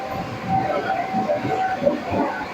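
Train pulling into Dhubulia station, a steady low rumble with rhythmic rolling clatter of the carriages and a faint squeal, close and continuous.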